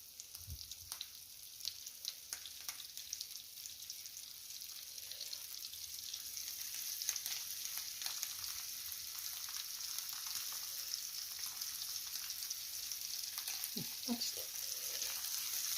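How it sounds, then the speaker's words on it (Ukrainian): Capelin sizzles and spits in a frying pan, a steady crackle close by with a few louder pops near the end; nobody speaks. "рибка вже з однієї сторони, я бачу, смажилася"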